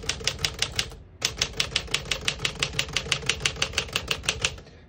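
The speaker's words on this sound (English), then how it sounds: "We're going to keep it on single for now and finish typing." A Smith-Corona Silent-Super vintage portable typewriter types in quick, even, crisp key strikes, about twenty in a run after a short pause, heard close and alone.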